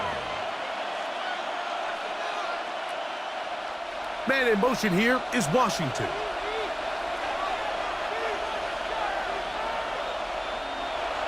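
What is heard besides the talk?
stadium crowd in Madden NFL 26 video game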